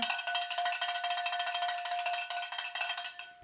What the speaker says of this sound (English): One more cowbell for everybody